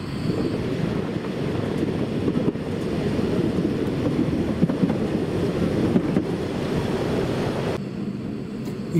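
A narrow gauge train on the Zittau line runs steadily, a continuous loud rumble of wheels and carriage with some wind buffeting throughout, no voices.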